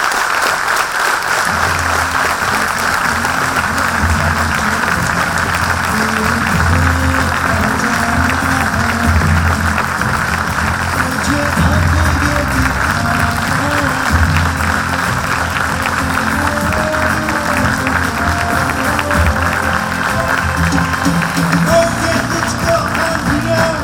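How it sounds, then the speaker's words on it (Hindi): An audience applauds loudly and continuously to welcome skydiver Sheetal Mahajan on stage, a dense wash of clapping from a large crowd with faint voices mixed in. "एक बार जोरदार तालियों से स्वागत कीजिए क्वीन ऑफ फ्री फॉल"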